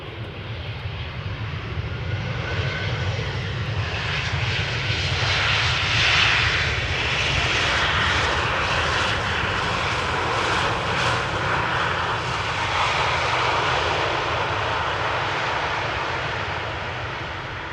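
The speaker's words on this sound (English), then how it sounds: "The E2 Embraer 195 coming in." An Embraer E195-E2 jet comes in to land at Amsterdam Schiphol, a broad engine roar swelling up and holding loud before slowly fading as it passes.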